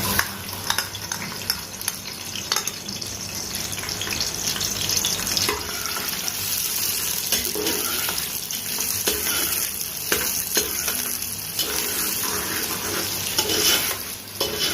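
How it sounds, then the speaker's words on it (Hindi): Chopped onion sizzling and frying in hot ghee in a pan, a steady loud hiss with occasional stirring scrapes, heard alone without talk, while making daal mash. "यहाँ पे हमारा घी हो चुका है गरम। अब इसमें डालूंगी मैं प्याज।"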